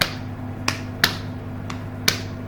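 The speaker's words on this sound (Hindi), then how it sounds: "और उसके बाद ऐसे ज़ोर से ताली बजा रहा हूँ" A single performer claps hard while teaching stressed and unstressed syllables in a lecture; four sharp, isolated claps land at uneven intervals over a low steady hum, with no talk.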